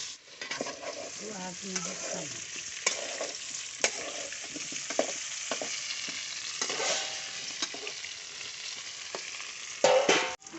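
Potatoes fry in a pan for aloo bhaja, a close, bright sizzle with frequent scraping and clattering as they are stirred, ending in a louder knock.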